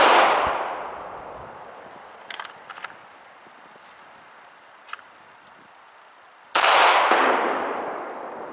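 A Sig 290RS 9mm compact pistol fires two loud, close shots several seconds apart, each with a long echoing tail, with faint clinks and handling noise between them.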